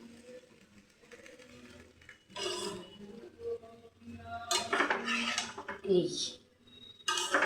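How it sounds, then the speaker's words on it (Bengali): Mixed vegetables, including bottle gourd, flat beans, pointed gourd and radish, are stirred in a pot, producing intermittent scraping and clattering bursts while someone talks. "সব দিয়ে এটাকে সুন্দর করে নাড়াচাড়া দিয়ে দিলাম।"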